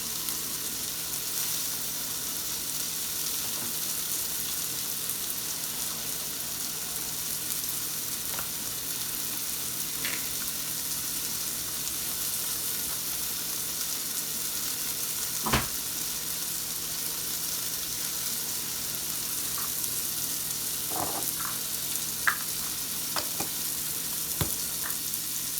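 Ground beef and steak fry together in a pan with a steady broadband sizzle, broken by occasional sharp pops and crackles and faint stirring clicks; nobody speaks.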